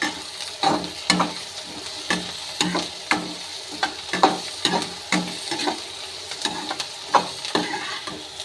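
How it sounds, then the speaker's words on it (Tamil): Chopped onion, coriander and mint sauté in hot oil, a steady close sizzle broken by regular scraping stir strokes of a ladle against the pan, roughly one or two each second. "வெங்காயம், மல்லி, புதினா கொஞ்சம் நல்லா எண்ணெயில் வணங்கணும் அப்படிங்கிறதுக்காக தான் இவ்வளோ நேரம் வணக்குது"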